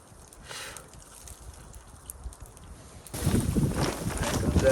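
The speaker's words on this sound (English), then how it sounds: "Here comes that wind again." Strong blizzard wind gusting against an insulated Crua camping tent in deep snow, a low rushing roar that builds and swells loud near the end.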